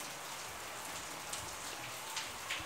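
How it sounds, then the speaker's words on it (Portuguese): Steady, soft rainfall with scattered droplet patters, distant and even, no voices. "Agora só é chuva."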